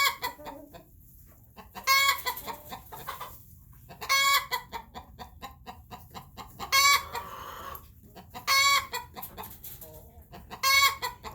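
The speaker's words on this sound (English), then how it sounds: "chickens, the ones that are laying. So watch them." Laying hens clucking and crowing in bursts every couple of seconds, fairly close and loud, with quieter barnyard background between calls and no speech.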